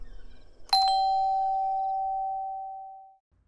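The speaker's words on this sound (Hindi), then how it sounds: "पता नहीं दरवाजे की घंटी बज रही है, इस वक्त कौन आया होगा?" An indoor doorbell strikes once with a bright electronic chime, and its single clear tone rings on and slowly fades over about two and a half seconds in an otherwise quiet room.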